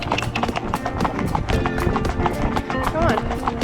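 Horses' hooves clip-clop in a quick, steady rhythm on an endurance ride, close and clear, while a rider talks over the footfalls.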